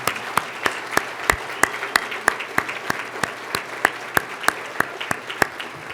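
Hands clap in a slow, regular rhythm, each sharp clap standing out over a light murmur of further applause, as an audience at a youth courage awards ceremony honours a group of young people.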